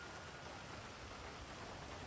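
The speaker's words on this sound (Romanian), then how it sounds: "Și am dat drumul la ploaie, băieți." Steady rain in GTA 5 on a FiveM roleplay server, heard as a continuous, even wash of falling drops with no breaks, fairly faint and with no voices over it.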